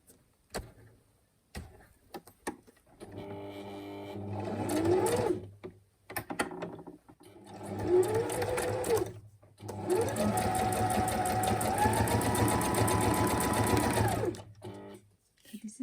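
A sewing machine runs in bursts, stitching a fabric pocket onto a junk journal cover, with short stops for back stitches between runs; a person talks at the start and the motor hums close and steady.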